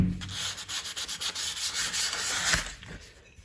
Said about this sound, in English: You could just sand the whole thing, basically scratch the surface like that one.